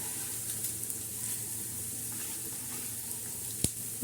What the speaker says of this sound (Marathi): आता इथं छान असे लालसर भाजणार आहोत